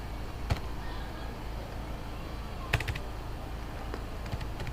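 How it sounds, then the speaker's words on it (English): Keys on a computer keyboard click quietly in an irregular string of taps, with a couple of sharper strokes, over steady room noise and without speech. "So this is typing, how to create a document."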